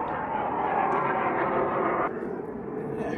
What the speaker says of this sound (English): A bit of fighter jet action.